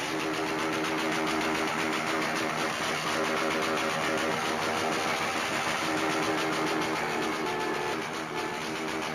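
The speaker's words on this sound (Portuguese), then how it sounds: "Dá um cortão de giro aqui pra vocês verem" Honda Titan 160 motorcycle running on a straight-pipe exhaust with no rear muffler, a loud, continuous close-up engine drone with a rattly, buzzing texture held steady throughout.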